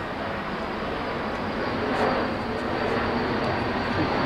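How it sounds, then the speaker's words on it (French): A single airplane passes overhead, heard as a steady broadband roar that swells slightly in the middle, distant and fairly loud with no voices over it. "Ça c'est un avion."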